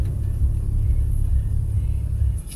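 A 2017 Porsche 911 Turbo engine idles with a steady, deep, loud rumble heard up close, holding even throughout before dropping off briefly at the end.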